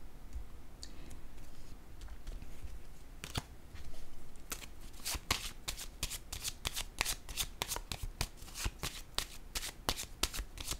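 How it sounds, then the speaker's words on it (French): Playing cards shuffled and then laid down one by one, a soft riffling at first followed by a run of crisp, sharp snaps and clicks, close and fairly quiet with no talk. "Je vais déposer une carte."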